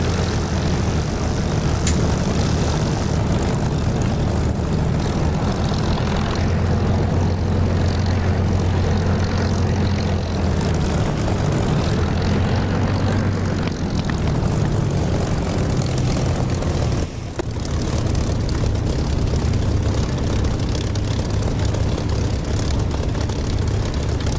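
A Spitfire's piston engine drones at takeoff power in the DCS flight simulator, a loud, continuous propeller roar with a low throbbing hum that wavers slightly in pitch throughout.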